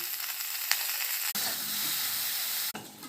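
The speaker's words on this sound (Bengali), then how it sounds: "কড়াইতে তেল দিয়ে দেবো, তেলটা গরম হয়ে গেছে, বড়ি দিয়ে দেবো" Bori lentil dumplings fry in hot oil in a kadai, giving a steady close sizzle and hiss with two sharp bursts as pieces hit or are stirred.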